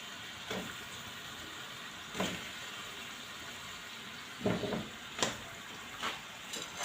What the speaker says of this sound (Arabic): بعد ما دبلت البصله هننزل بالبطاطس